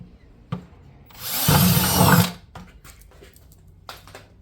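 A loud burst of a power drill drilling a hole in scrap wood for a screw, whirring for about a second, bracketed by a few sharp clicks and knocks, with no talking.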